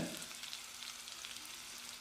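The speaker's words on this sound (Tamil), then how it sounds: "வெங்காயத்தை நல்லா செவந்து வர அளவுக்கு வதக்கிடலாம்." Three chopped large onions with fennel seeds and curry leaves sizzle steadily in hot oil in a pan for chicken kulambu, a continuous even frying hiss with no voices.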